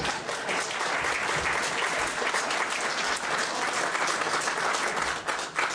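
An audience at a public meeting on New Jersey's RGGI cap-and-trade program applauds in a dense, even patter of many hands, sustained for about six seconds with a slight dip near the end.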